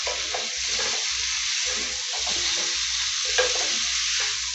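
Seasoned tomatoes get stirred into pork frying in a pan for a masala wet fry, with a continuous close sizzle under irregular scraping and mixing strokes.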